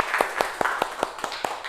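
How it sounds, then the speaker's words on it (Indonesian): Children in a classroom clap their hands in an even rhythm, with eight sharp claps about a fifth of a second apart. The claps sound fairly close, and soft voices murmur underneath. "tepuk tangan"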